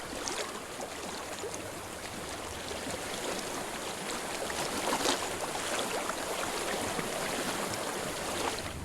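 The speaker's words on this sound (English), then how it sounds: "I hear water." A flowing stream in the game Hellblade: a steady, broad rush of water that runs unbroken and fairly soft, with no talking.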